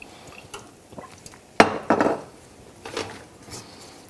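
A utensil clanks and scrapes against a pan while spices and turmeric are stirred in oil, with a few sharp knocks in the middle and softer taps around them.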